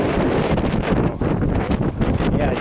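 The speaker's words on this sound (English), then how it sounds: "Woo, windy too." Gusty wind buffets the microphone in loud rumbling bursts that rise and fall over a few seconds, with no clear voices.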